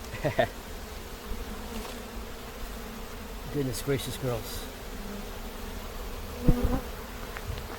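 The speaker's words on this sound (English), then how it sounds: "Bees everywhere." A dense, steady buzzing of many honey bees fills the air, with a person briefly speaking over it and some handling noises.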